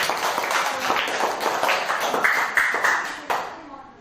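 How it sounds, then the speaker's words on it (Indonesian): Schoolchildren in a classroom clap together for a group that has just presented, a busy, fairly close burst of applause with some voices mixed in, tapering off near the end. "Tepuk tangan semuanya anak-anak"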